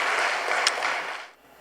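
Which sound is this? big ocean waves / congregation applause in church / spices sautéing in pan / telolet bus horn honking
congregation applause in church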